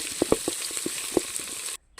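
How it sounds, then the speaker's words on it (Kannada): Soft, steady sizzle of sliced onions frying in hot oil with whole garam masala spices, broken by a few louder spatula knocks against the pan and a brief dropout near the end. "ಈಗ ಈರುಳ್ಳಿ ಫ್ರೈ ಆಗ್ತಾ ಬಂತು."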